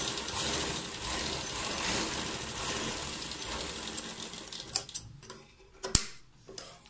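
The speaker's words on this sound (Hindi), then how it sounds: "कपड़े को आपने सेट करते जाना है और सिलाई लगाते जानी है।" A sewing machine stitches a folded cloth cuff sleeve, a steady mechanical whirring with rapid ticking that slows and breaks into a few separate clicks and a sharp knock near the end; no voice.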